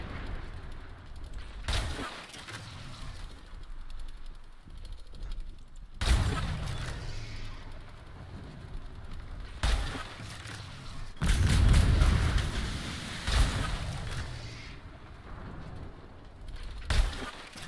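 Heavy booming ship cannon blasts in a video game (Atlas) go off one after another at irregular intervals, with a rumbling battle ambience between the shots.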